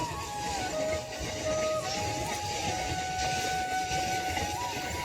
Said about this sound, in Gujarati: આપણા ખેતર પાસેથી ડીઝલના ટાંકાવાળી ટ્રેન નીકળી છે.